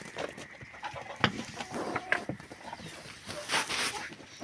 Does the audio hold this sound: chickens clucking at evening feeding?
yes